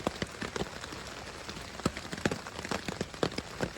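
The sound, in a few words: rain falling while camping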